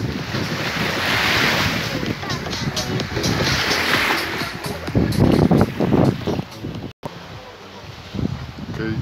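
Waves breaking on the shore of the Ob Sea, a large reservoir, with strong wind buffeting the microphone; continuous loud surf roar, with people talking and shouting over it.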